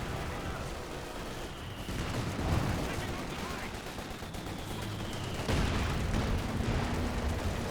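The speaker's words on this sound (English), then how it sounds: "Rifle grenade fired onto the mortar." Battle noise from the Company of Heroes video game as a rifle grenade is fired at a mortar: continuous rumbling explosions and gunfire, with heavier blasts around the middle and near the end.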